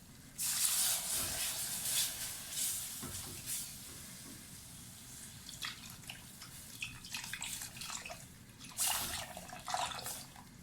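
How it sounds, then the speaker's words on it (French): Milk trickles slowly into a lasagne sauce in a pot, making a soft, uneven splashing and hissing pour that swells in a few short bursts and fades between them, quiet and close. "vous pouvez commencer à verser le lait tout doucement au fur et à mesure"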